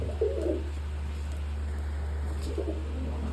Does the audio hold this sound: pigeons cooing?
yes